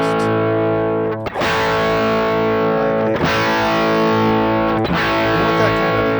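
Electric guitar tone through an amp cab effect set dull and focused, with three distorted chords rung out loudly and left to sustain.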